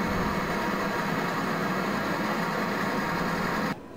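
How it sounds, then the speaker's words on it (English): A vintage car engine on display in a transport museum hums steadily in a continuous drone at moderate level, then cuts off abruptly near the end. "There's a good display of engines, complete with sound."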